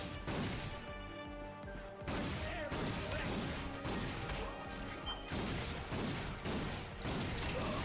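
Dense gunfire and repeated explosions from an attacking dropship in the Ratchet and Clank video game, a loud, continuous barrage of crashes and blasts with brief lulls, filling the whole stretch.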